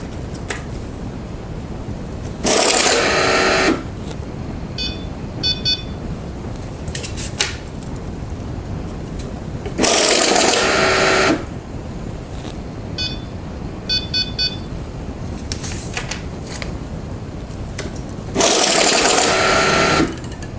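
A Cassida Advantec 75 SD/UV banknote counter whirs through stacks of notes in three loud mechanical bursts about a second long, each followed by quieter clicks and short electronic beeps, close up with no talking.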